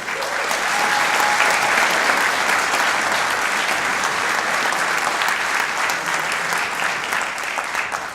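A large crowd applauds loudly and steadily for honoured guests at a martial arts event, a dense wash of clapping that holds without pause throughout.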